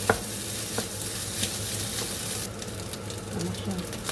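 Fried rice being stir-fried in a pan, a steady sizzle with repeated scraping and stirring strokes throughout, growing brighter and busier near the end, no talk over it.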